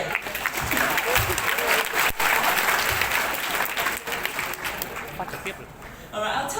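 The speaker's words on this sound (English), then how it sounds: "So give yourself a round of applause for being here today on a Saturday." An audience bursts into sustained applause, many hands clapping together before it fades out.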